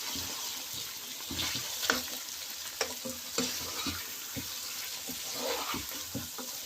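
Mutton and potato pieces fry in a pan, giving a soft, low sizzle with occasional stirring scrapes and light knocks, quiet and close with no talk.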